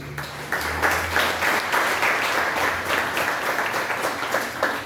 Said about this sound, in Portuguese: Você pode aplaudir o seu Deus.